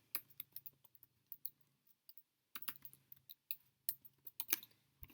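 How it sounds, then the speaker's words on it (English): Keys are clicked on a keyboard to enter a sign-in code, faint and close, in irregular bursts of taps with short pauses between them. "we're going to type in all of those letters, no spaces needed"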